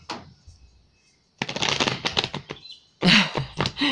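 Tarot cards being shuffled during a live reading: bursts of rapid riffling and flicking, separated by short pauses, close and fairly loud.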